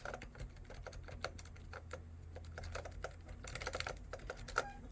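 Typing on a BTC 5339R foam and foil keyboard with smooth keys, a steady stream of soft, close key taps in quick, uneven rhythm, growing slightly busier toward the end.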